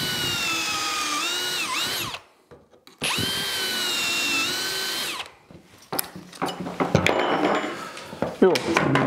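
A drill bores pocket holes through wood held in a pocket-hole jig, two sustained whining runs separated by a pause, followed by clattering and handling of the jig and workpiece.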